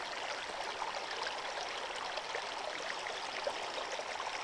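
Stream water rushing steadily through a gold sluice, flowing fast across the riffles; a continuous, close, fairly loud broadband wash with no breaks and no voices.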